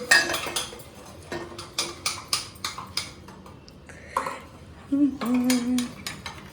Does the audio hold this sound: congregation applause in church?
no